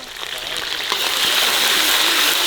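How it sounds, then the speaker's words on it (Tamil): Mustard seeds crackling and sizzling in hot coconut oil, alongside dried red chillies and curry leaves; a steady, bright frying hiss that builds slightly and holds close up, with no voices. "இப்போ கடுகு போடுங்க"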